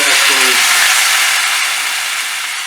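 Water poured into a hot pan of vegetables for a Bengali mourola fish curry gravy gives a loud, steady broadband sizzle and steam hiss that slowly eases, with a few low hums and no talking.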